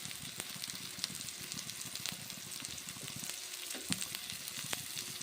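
Maggi green pea fritters (vada) frying in hot oil, a dense continuous crackle and sizzle with occasional louder pops, close and moderately quiet, no speech.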